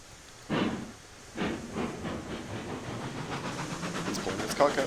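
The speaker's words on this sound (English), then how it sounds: "This is the lever for cylinder cocks. It just kind of lets steam out sometimes. Or at least that's what it does in the game." Steam locomotive cylinder cocks venting in the Railroads Online game, two sharp hissing bursts followed by a sustained rushing hiss with faint rhythmic chuffing, loud and near.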